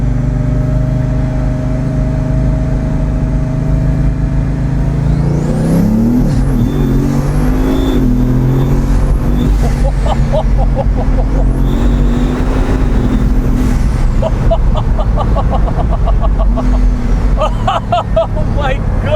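Bugatti Veyron Grand Sport under hard acceleration, a deep, loud engine roar heard from inside the cabin that surges with whining, rising tones, while an excited voice exclaims over it.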